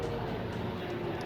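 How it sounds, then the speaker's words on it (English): Helicopter flying overhead, a steady broadband rumbling drone with a faint tonal whine, continuous and fairly loud throughout the short stretch. "Apologize for the helicopter flying overhead."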